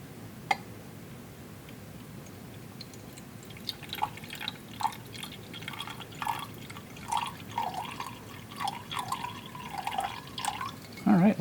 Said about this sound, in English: let's go ahead and add some water to get it up to 100 grams.